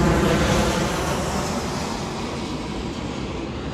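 Airplane flying overhead near a bridge, a loud broad roar that is strongest at the start and slowly fades as it passes, with no other sounds.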